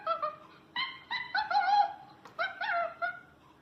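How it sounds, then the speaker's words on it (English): Recorded chimpanzee calls played through a smart speaker: a run of short hooting cries rising into excited shrieks, several bursts in quick succession, clear and close with no talking. "Okay Google, make sound of a chimpanzee."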